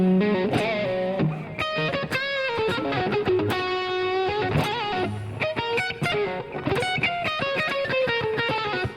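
A 1959 Gibson Les Paul Junior electric guitar played through its neck pickup, a loud, distorted run of rapidly picked notes and chords alone, with sustained ringing phrases.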